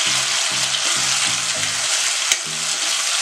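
Finely chopped tomatoes sauté in hot oil with curry leaves for Kolhapuri misal, a steady loud sizzle under intermittent spatula scrapes and one sharp clack against the pan.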